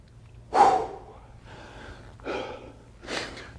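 Someone breathes deeply during a karate training exercise: one strong inhale is followed by three softer breaths, each separated by a short pause, close and quiet with no speech.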